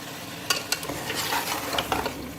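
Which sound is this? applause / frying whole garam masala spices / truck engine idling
frying whole garam masala spices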